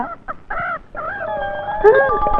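A hen clucks and squawks close by in a few bursts, then a longer drawn-out cackle, loud and nearby.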